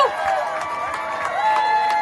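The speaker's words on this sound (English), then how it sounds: "Give them a big round of applause" At a Raise the Rates rally, the crowd cheers and applauds to honor immigrant-rights activists. Voices rise in sustained, tonal cheering over a light patter of claps that holds for the full two seconds.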